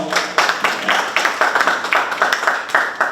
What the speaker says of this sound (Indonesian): Boleh tepuk tangan dulu kawan-kawan semua